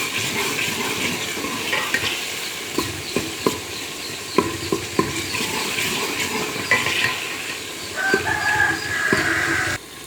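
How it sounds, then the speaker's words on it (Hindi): Crushed garlic sizzling and frying in a pot while it is stirred, a steady hiss broken by scattered spoon scrapes and clinks, close and fairly loud, with no talking, while beef haleem is cooked in a Pakistani kitchen. "अब हम इसमें कुटा हुआ लहसुन डालेंगे"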